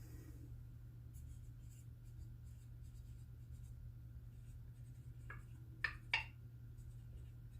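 Faint, soft scratching strokes of a marker writing on a dried glass canning jar during home canning, a few brief squeaky strokes standing out near the end over a steady low hum.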